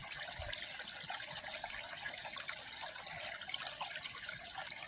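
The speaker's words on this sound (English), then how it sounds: "isn't it cool how springs are? I mean, there's no water anywhere and this just pops out of the earth" Spring water flows steadily out of the ground in the Pennsylvania countryside near Duncannon, a continuous bright rushing hiss with no voices.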